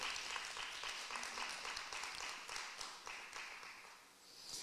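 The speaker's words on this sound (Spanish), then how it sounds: "Dale fuerte el aplauso al Señor en alabanza y adoración." A church congregation claps in praise and worship during a sermon, with continuous, even applause from many hands heard at a distance and fairly quiet throughout.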